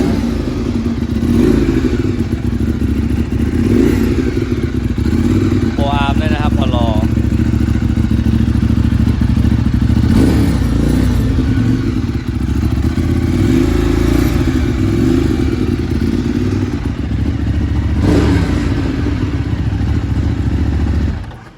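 Ducati 848 Evo twin-cylinder sport motorcycle engine running loud and close, with a steady low rumble and repeated sharp revs, with a voice talking over it.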